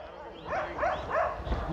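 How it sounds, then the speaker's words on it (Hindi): Dogs bark in a run of three or four quick, whining yips close by, with a faint background hiss around them. "अबे कुत्ते क्यों भौंक रहे हैं लेकिन हमें?"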